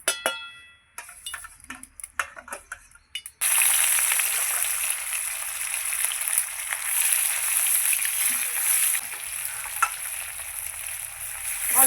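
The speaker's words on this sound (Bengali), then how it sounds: "তেল গরম হয়ে গেছে, মাছ দিয়ে দেবো।" Catla fish pieces rubbed with salt and turmeric are dropped into hot oil: a few quiet clicks and clinks first, then a sudden loud, sustained crackling sizzle that continues steadily to the end.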